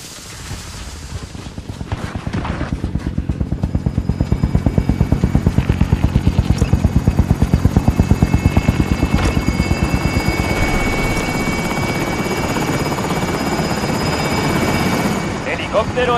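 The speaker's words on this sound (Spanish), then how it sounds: "Helicóptero en posición." A helicopter in the Call of Duty: Warzone video game whirs with a loud, fast, steady rotor chop that swells and holds, with bursts of gunfire and voices talking over it.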